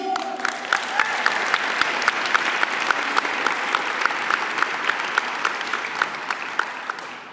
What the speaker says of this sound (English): And let's give a round of applause.